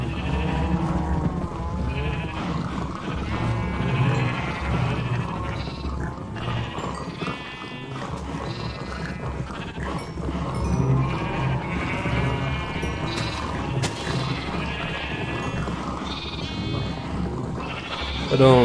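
Sheep bleat repeatedly in the video game Minecraft during farm breeding, with someone speaking Portuguese over the game sounds for most of the time.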